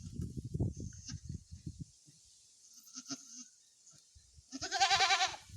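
A few muffled low thumps and shuffles, then a loud, wavering bleat close by near the end from a goat suffering from bloat.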